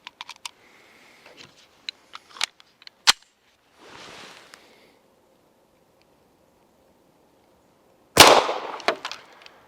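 A rifle fires at a target during an endurance test of a Votatu PMD504G scope; one sharp, loud, close report rings out near the end, preceded by scattered small clicks and rustles of handling.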